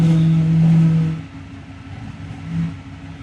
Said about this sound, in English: Man, it's making a lot of noise.